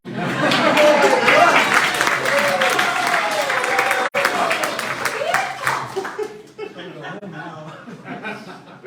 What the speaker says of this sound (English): I like applause. Come on.